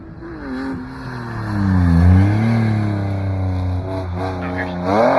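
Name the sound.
BMW drift car revving and sliding sideways on kart track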